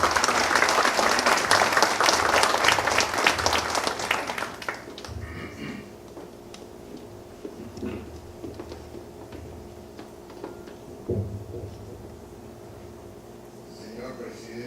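Audience applause greeting a speaker at a book presentation in a formal hall, dense clapping for about four seconds before fading to a quiet room with scattered small taps and a faint hum.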